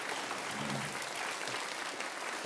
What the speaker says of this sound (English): can we have a round of applause for our two discussants?